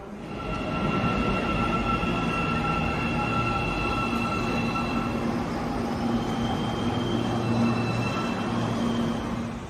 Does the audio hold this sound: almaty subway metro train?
yes